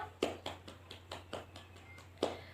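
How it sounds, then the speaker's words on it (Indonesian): Classroom clapping for a student during a microteaching biology lesson, a small group giving a few quiet, rhythmic claps, sparse and faint over a low hum. "Tepuk tangan buat Habil"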